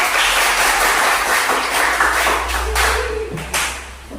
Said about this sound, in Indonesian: Silakan kita berikan dulu tepuk tangan bagi kelompok.